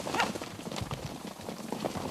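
Horse hooves clip-clop along at a relaxed walk, with a campeiro horse on a tropeiro-style ride through the countryside; the hoofbeats are soft, uneven and moderately close, with faint outdoor background noise.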